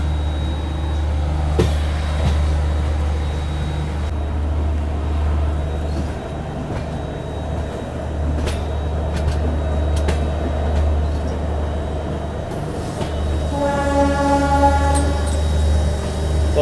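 Kanpur Shatabdi Express rolling into Ghaziabad Junction, heard from inside the train as a steady low rumble of the coach, with brief squeals, clunks and a tonal hum near the end as it slows.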